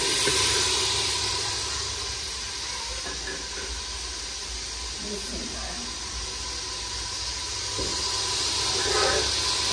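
Spices added to browned ginger, garlic and onion frying in a pan, producing a continuous loud, hissing sizzle that holds steady and rises slightly toward the end.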